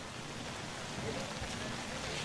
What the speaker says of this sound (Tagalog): Yung Mav, nakikita namin umuulan pa rin dyan hanggang ngayon.